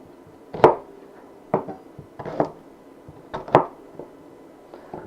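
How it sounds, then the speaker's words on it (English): A knife rough-cuts a large shallot into roughly inch-sized pieces on a board, giving about five separate sharp chops spaced irregularly, close and moderately loud, with no talking. "we're just going to rough cut these, you know, about an inch."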